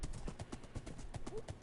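Hooves of a ridden horse in Minecraft on PS4 clip-clop in a quick steady gallop rhythm, soft taps repeating evenly, with a brief faint whinny-like tone near the end.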